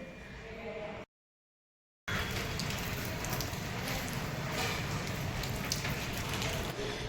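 Rain falling and pattering on surfaces, a dense steady hiss that returns after a short silent gap and continues loudly.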